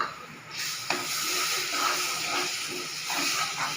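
Water hitting atta flour roasted to a brown colour in a pan for kada prasad halwa, a loud steady hissing sizzle that bursts in with a sharp onset and keeps fizzing throughout, with no talk over it.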